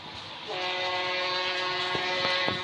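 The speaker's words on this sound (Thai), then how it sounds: "อันนี้คือรถไฟ รถไฟอะไรก็ไม่รู้บ้าบอที่สุด" A train approaches with its horn sounding in a long, steady, sustained tone over a rising rumble, with a few louder knocks near the end.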